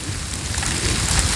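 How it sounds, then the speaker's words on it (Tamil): Light rain drizzling over a coastal village strewn with fallen coconuts, a steady close hiss of fine drops with no break and no voices. "மழை வந்து இப்போ தூரிக்கொண்டிருக்கு."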